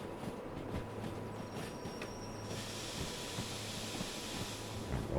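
A steady rumbling train braking in Derail Valley, with a faint metallic squeal and clanking as it slows, with no voices.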